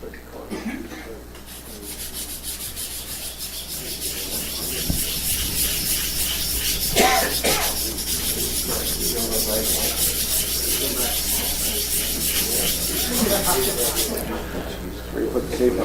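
A blade is rubbed back and forth on a 250-grit sharpening stone, making a steady gritty scraping close up that runs through most of the stretch with faint background voices.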